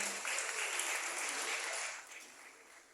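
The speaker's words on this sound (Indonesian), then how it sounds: "Tepuk tangan buat Kang Amih." A youth forum audience gives a round of applause for a government deputy speaker, a thick burst of clapping that stays full for about two seconds and then gradually tapers off.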